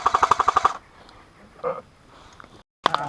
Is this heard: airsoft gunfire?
yes